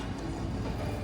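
A train pulls in at an Ooty station, a steady low rumble and rolling wheel noise filling the second at moderate, close level with no voices.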